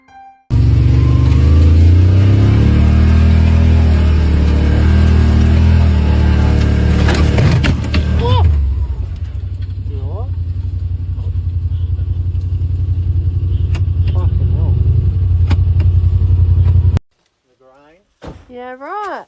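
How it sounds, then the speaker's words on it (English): A car drives through dense forest in the wild Australian outback, grinding over branches with a loud, continuous engine roar and crunching clatter that cuts off abruptly near the end, followed by faint knocks and voices. "their car crunching over branches and pushing past the dense forest"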